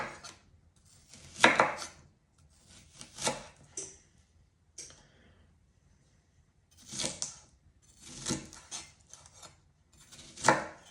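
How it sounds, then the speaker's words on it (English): A knife chops onion on a cutting board in short, irregular bursts of sharp, close knocks separated by quiet pauses. "I'm not chopping it up too finely."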